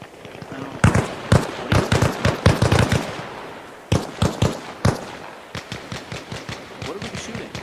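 Automatic and rapid gunfire in Arma Reforger crackles in sharp bursts, some loud and close, others lighter and more distant, with a brief gap between volleys.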